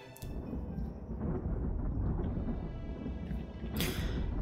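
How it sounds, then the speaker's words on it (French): Thunder from the video game Fate/Grand Order rolls as a deep, continuous low rumble lasting several seconds, steady and loud, with a brief sharper crack near the end and no speech over it. "le tonnerre qui gronde."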